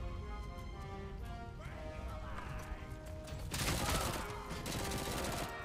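Gunfire in the RoboCop: Rogue City video game: dense bursts of shots erupt over steady game tones in the second half and keep rattling to the end.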